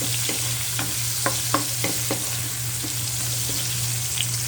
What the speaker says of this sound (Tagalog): nagisa na natin ang sibuyas